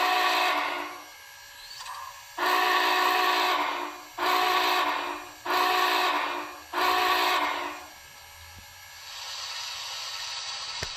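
An MTH HO-scale Union Pacific Big Boy 4014 model steam locomotive whistle blows in five long, evenly spaced blasts, loud and close, followed by a softer steady hiss.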